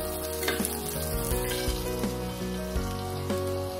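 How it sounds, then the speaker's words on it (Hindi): Oil heats in the hot pan used earlier for chicken tikka, ready for tikka masala, giving a steady crackling sizzle with small pops over a droning background hum. "इसमें डालेंगे 1/3 कप ऑयल डाल रही हूँ मैं।"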